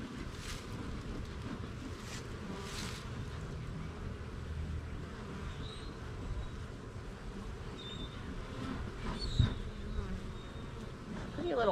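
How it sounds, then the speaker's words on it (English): Honey bees hum in a dense, continuous buzz at an opened triple-decker hive during a spring inspection, fairly soft and close, with occasional individual bees zipping past. "Because these are going to be nurse bees and they can't fly."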